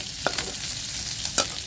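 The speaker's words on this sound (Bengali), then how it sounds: "এখন মাছটা রসুনটা ভালো করে ভাজা করতে হবে" Fish and garlic fry in a pan with a constant, even sizzle, broken by two sharp scrapes of stirring close by.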